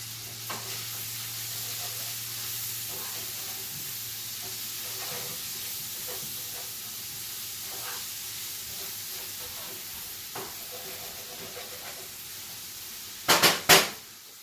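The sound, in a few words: stirring bacon and onion frying in a pan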